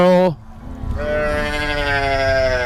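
Cattle at a cow and buffalo market in Thailand moo loudly and close by: one short call, then a long, drawn-out moo from a second animal.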